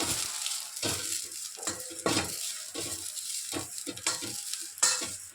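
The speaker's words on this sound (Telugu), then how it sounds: "కొంచెం కొంచెం వేయించుకుంటే బాగుంటుంది ఇది మునగాకు ముందు వేయించుకుందాం" Moringa leaves are roasted in a pan in only a little oil, giving a low sizzle broken by repeated scraping and stirring strokes close by, with no talk.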